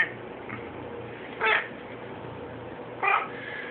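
Cat meowing twice, two short clear meows about a second and a half apart over quiet low background hum.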